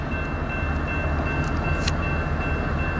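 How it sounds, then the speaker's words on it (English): An eastbound BNSF freight train leaving Hobson Yard in Lincoln, Nebraska: a steady low rumble and drone of the locomotive and rolling cars, fairly near and continuous, with a faint high squeal partway through. "BNSF coming out of Hobson Yard."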